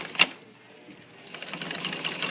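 A sewing machine back stitches at the top of a zipper, running quietly and then picking up into a soft, rapid mechanical buzz after a faint click at the start.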